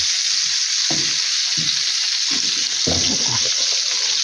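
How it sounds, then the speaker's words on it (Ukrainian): Meat cutlets fry in a pan, already browned on one side. A loud, constant sizzle carries throughout, with irregular stirring or scraping bursts and no talking. "Бачите, з однієї сторони вже присмажилися."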